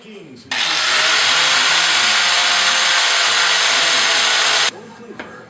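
Steady high-pitched whine of a power tool cleaning metal pieces for a workbench build, running loud and continuous for about four seconds before stopping, with quiet handling noises around it.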